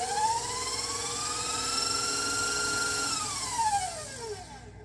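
An electric mixer whips keto ice cream mixture, a steady motor whine that slowly rises in pitch, holds, then drops near the end, close and moderately loud with no voices.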